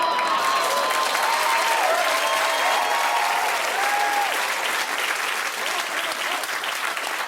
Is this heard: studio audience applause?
yes